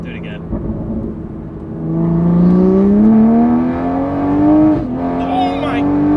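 A turbocharged car with a Pure800 turbo revs hard on a dyno, engine tone climbing steadily in pitch during a roll, loud and close with excited voices over it.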